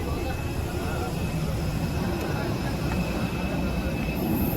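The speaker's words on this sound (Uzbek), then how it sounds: "Do'stlar, mana samolyotga ham yo'l olmoqdamiz. Nasib etsa, Madinaga qarab uchamiz inshaalloh." Airliner cabin noise on a flight bound for Madinah, a steady broadband engine roar and hum filling the space, continuous and even with faint tonal whines.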